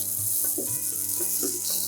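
Boiled, chopped potatoes fry in oil with curry leaves and green chillies for sabudana khichdi, giving a steady low sizzle with a few soft stirring bumps.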